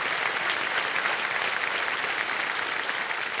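A studio audience on the quiz show KBC claps loudly and steadily, a dense wash of applause sustained without a break.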